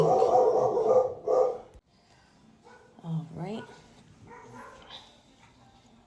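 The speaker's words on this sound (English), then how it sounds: "One dog barks and the other dog barks." Two dogs barking indoors, a loud burst of barks up front, then a pause, followed by a higher yelping bark and softer whimpering. A voice speaks briefly.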